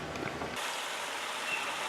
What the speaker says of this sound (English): This is a barge that makes nearly a daily trip